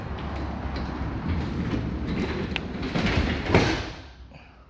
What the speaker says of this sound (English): pull the garage door down.